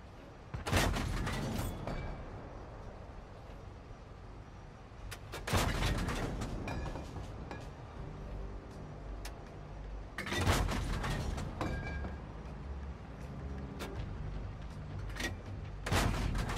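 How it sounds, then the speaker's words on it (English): Heavy tank cannons firing in World of Tanks on the Dunkirk map, four loud booming shots spaced roughly five seconds apart, each followed by mechanical reload clatter and rumbling engine noise in between. "I got to kill some time here shooting at these tier 7 heavy tanks"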